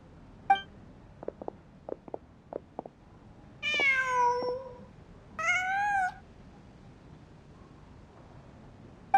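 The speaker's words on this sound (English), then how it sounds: "Just a cat." A cat in the video game Genshin Impact lets out two clear, drawn-out meows, close and distinct. A few soft ticks and clicks come before them in an otherwise quiet scene.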